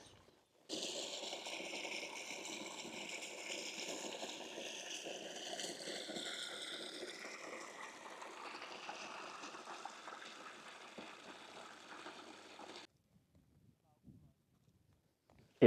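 A river stream on Dartmoor flows steadily and close by at a shallow crossing, giving a broad, even rush of water that runs for about twelve seconds and then cuts off abruptly into near silence.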